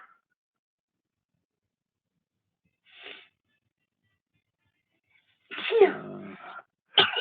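A single sharp sneeze from one person after near silence, preceded by a faint breath and followed by a brief sniff or breath.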